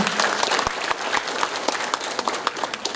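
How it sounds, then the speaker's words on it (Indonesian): Audience applause at the opening of a women's empowerment ceremony, a dense, steady wash of many hands clapping loudly throughout with scattered sharper claps on top. "Boleh kita beri tepuk tangan yang luar biasa"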